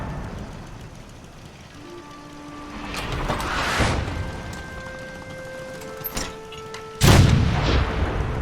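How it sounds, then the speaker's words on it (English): Gunshots in Fallout 4, a few heavy booming reports spaced seconds apart, the last one loudest, over a low game ambience with sustained tonal hums. "Oh, 4 shots. Oh, he fired a 5th one."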